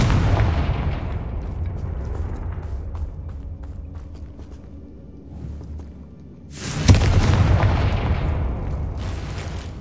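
Confringo fire spell blasts in the Hogwarts Legacy video game: a deep rumbling boom fading out, then a second sharp explosive burst with a long decaying roar, close and loud with no talking.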